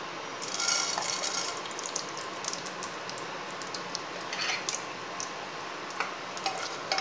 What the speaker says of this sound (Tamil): இப்போ வந்து நம்ம கடுகு உளுந்தம்பருப்பும் போட்டுக்குவோம்.